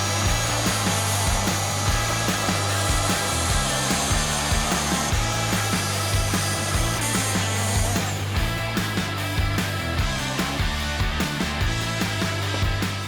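A Festool TS 60 K plunge circular saw cuts through a board, its motor holding a loud, steady high whine with a grinding rasp throughout, close up and with no voices.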